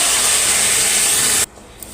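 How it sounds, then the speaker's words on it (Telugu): A loud sizzling hiss surges as cooked dal is poured into hot oil tempering, then cuts off abruptly into near quiet. "పోపు అయితే ఏగిపోయింది. మనం ఉడికించుకున్న పప్పు వేద్దాం."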